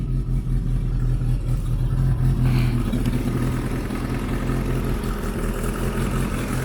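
A turbocharged Tofaş Doğan car engine idles steadily with a low, even rumble and light mechanical clatter, close and continuous, with no voices.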